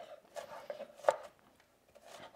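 A knife slices onion on a cutting board, a few soft, scattered cuts with one sharper chop near the middle, close and quiet.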